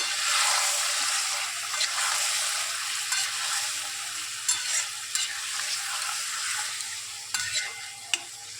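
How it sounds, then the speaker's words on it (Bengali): Spice masala being stirred and mixed with a little water in a cooking pan gives a steady soft sizzle, with scraping strokes and a few sharper clicks as the spoon moves through the wet paste. "এবার এটাকে আমি একটু নাড়াচাড়া দিয়ে মিশিয়ে নেবো"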